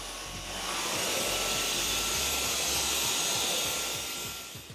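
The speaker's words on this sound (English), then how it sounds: "Listen to see if you can tell when we go over a dusty patch." A Dyson cordless vacuum cleaner whirs steadily at close range as it passes over a dusty floor patch, its motor pitch rising and holding through the middle before easing slightly at the end.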